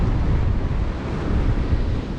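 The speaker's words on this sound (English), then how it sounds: "Some waves on either side of it." Ocean waves surge and wash on both sides of a big rock sheltering a swimming rock pool on soft sand, Eyre Peninsula; a steady, loud roar of surf with heavy wind buffeting the microphone throughout.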